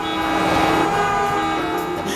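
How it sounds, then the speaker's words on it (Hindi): Loud, sustained blaring of vehicle horns in smoky, dusty traffic overlapping into a dense, continuous honking chorus, close by and unbroken, in a 3D animated cartoon. "गाड़ियों के कितने हॉर्न बज रहे हैं।"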